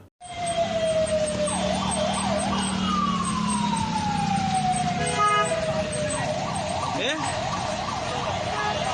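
An ambulance siren wails continuously, alternating between a rapid warble and long falling sweeps, loud and close amid a steady rumble of traffic jammed on the Indore-Dewas highway.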